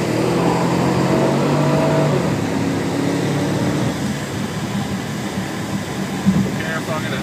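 A car running flat out over a crest on the 2012 Detroit Grand Prix race course, a loud sustained engine drone that eases slightly partway through, heard from inside the cabin with a brief knock near the end.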